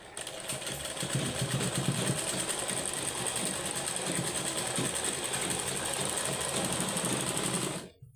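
Sewing machine running steadily, stitching an old sweater into socks; a continuous close, fairly loud mechanical whir with fine rapid ticking that stops abruptly near the end.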